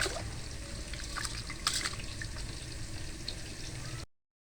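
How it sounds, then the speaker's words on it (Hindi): Onions frying in hot oil for a large pot of Sindhi chicken biryani, a steady close sizzle and crackle with faint liquid bubbling, running alone and unbroken. "ऑयल गर्म हो चुका है, इसमें प्याज शामिल कर देंगे।"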